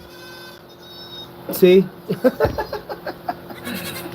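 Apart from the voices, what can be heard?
goat bleating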